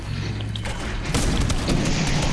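Gunshots in Fortnite: a dense rumbling burst of game gunfire that swells into a heavy boom midway, loud and continuous over a busy game background, with no clear talking.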